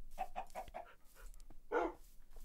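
Tamed dogs in the video game Minecraft, a quick run of panting and yipping dog sounds followed by a short louder bark, heard alone.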